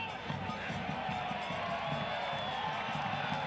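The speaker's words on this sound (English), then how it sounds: "This crowd is really getting behind the defensive work rate of Phoenix Rising" A stadium crowd at a Phoenix Rising FC football match against Rio Grande Valley FC keeps up a steady roar and cheer, heard under continuous commentary.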